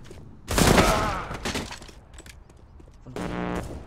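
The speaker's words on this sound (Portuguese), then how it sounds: "Flashbang. Throwing Boa." Flashbang grenade in the game CS:GO: a loud burst and crackle, then a lingering noisy tail, followed by a second buzzing, tonal sound.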